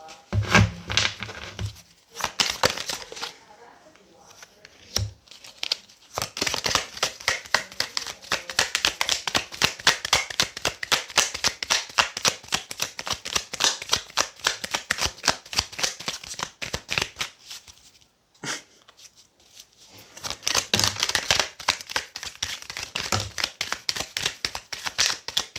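Rapid, crisp riffling of a deck of tarot cards, repeated in long bursts with short pauses between, close and fairly loud.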